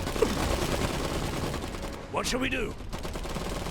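Machine gun fire crackles in the alternate-history WW1 strategy game Iron Harvest as a loaded MG opens up, rapid bursts mixed with game sound, with a voice speaking over part of it.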